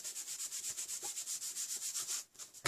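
Steady back-and-forth rubbing of an embossing buddy across card stock during a stamping craft project, a rhythmic scrubbing with about twenty even strokes, close and alone, stopping near the end.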